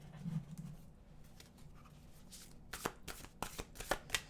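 Oracle cards shuffled in the hands during a solstice tarot reading, starting with quiet handling and breaking into a run of crisp, close riffling bursts toward the end.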